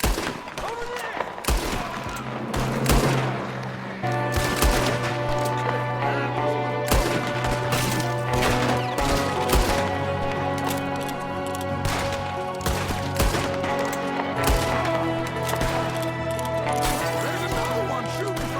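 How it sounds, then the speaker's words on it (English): Gunfire in the Western video game Red Dead Redemption 2, with repeated sharp shots over a loud, busy mix of music and action, while someone shouts between bursts. "There's another one shooting from the window!"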